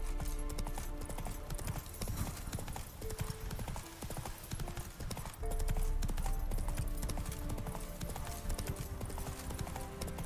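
Horse hooves clip-clop steadily while riding in The Witcher 3, a continuous rhythmic trot sitting under game music with an occasional whinny.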